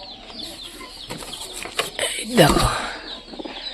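Two Giribaj pigeons call, their low coos and clucks rising briefly in the middle, close by, with a short spoken word over them.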